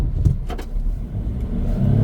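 A Suzuki Carry mini truck in 4 low backs up an embankment, its small engine laboring in a low, steady drone with some faint knocks, close by and without voices.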